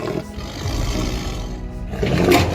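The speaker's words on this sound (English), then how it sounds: "This rare Amur tiger was relocated after preying on village dogs." An Amur tiger, relocated into protected wilderness, roars loudly and close by in one sustained, rumbling call that swells again toward the end, with no voices over it.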